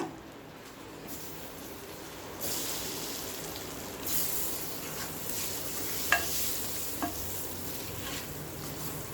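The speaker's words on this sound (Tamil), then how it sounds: "ஒரு 2 நிமிஷம் மட்டும் வதக்கிக்கலாங்க" Four eggs sizzle and get stirred in hot oil in a pressure cooker for egg biryani: a steady frying hiss that swells after a quieter start, broken by a couple of sharp spatula clinks.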